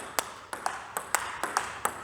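A table tennis ball bouncing on a Butterfly Viscaria Super ALC blade gives about eight crisp, evenly spaced pinging taps, close and clear over a soft background hiss.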